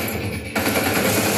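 Rapid automatic AK-47 fire in a first-person shooter game, a dense burst of shots starting about halfway through and rattling on loudly to the end.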